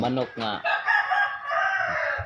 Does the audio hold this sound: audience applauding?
no